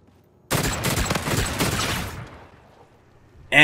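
A newly unlocked gun in Call of Duty: Infinite Warfare fires one loud, rapid burst lasting under two seconds, then tails off into quieter game ambience before a sharp new sound cuts in at the very end.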